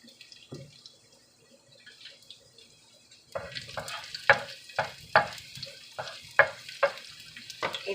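Onions hit a pan for a pechay-and-beans stir fry, starting quiet and then sizzling with a run of sharp, regular scraping and stirring strokes, close by and with no talking.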